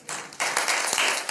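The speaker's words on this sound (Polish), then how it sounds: "Ja sądzę, że zasługuje na brawa" An audience at a Polish lecture on Hebrew prophecy breaks into applause, starting after a short pause and swelling in two steps into a dense, fairly loud burst of clapping.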